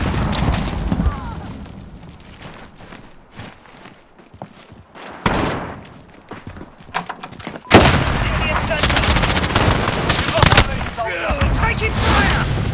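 Loud gunfire, explosions and booming blasts from a Call of Duty Modern Warfare match on an Xbox Series X, dense bursts and a sharp slam midway, with in-game voices shouting over the combat.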